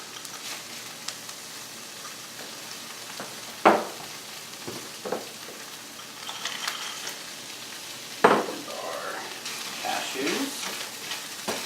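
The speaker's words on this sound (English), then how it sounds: "we're now going to add our onions and garlic, saute those, as well as our cashews" Onions, garlic and cashews sauté in a hot pan, giving a continuous sizzle broken by a few sharp utensil scrapes and knocks, heard up close with no voices.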